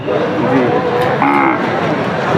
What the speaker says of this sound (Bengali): দেখতে পাচ্ছেন গরুটা কান্না করতেছে